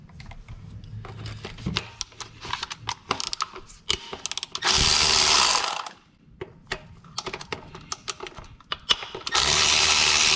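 A ratchet backs out 10 mm bracket bolts on a 1996–2000 Honda Civic LX D16Y7 engine, with bursts of rapid clicking pawl ticks broken by brief pauses and sharper metallic handling knocks, close up and without talk.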